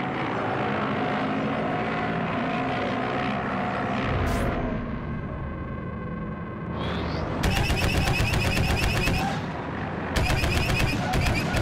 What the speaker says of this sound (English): Our TIE bombers are initiating an attack run.